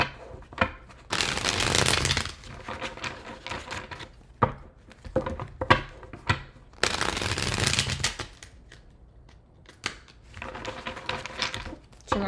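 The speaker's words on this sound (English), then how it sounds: "Two more shuffles." A deck of cards is shuffled in several separate bursts, each a crisp riffling flutter lasting one to two seconds, close to the microphone, with quieter taps and handling sounds in the pauses between.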